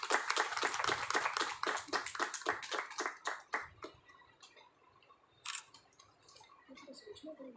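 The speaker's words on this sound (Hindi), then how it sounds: "थोड़ी सी तालियां हो जाए।" A small audience at a cooking competition result ceremony claps in a sparse, distinct rhythm for a few seconds, then the clapping fades to scattered faint taps and quiet room noise.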